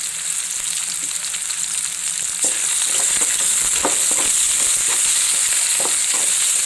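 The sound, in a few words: onions and curry leaves frying and stirred in a pan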